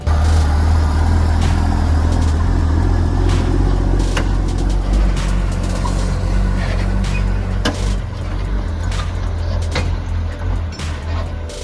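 A fully loaded log truck hauling timber and pulling an extra trailer rumbles down a dry, dusty road, a heavy low engine drone steady throughout with scattered rattles and knocks.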